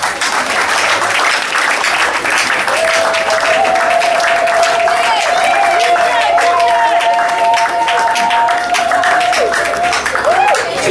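A crowd applauds loudly and continuously with some cheering, a dense wall of clapping close by for the whole stretch, with a voice calling out over it.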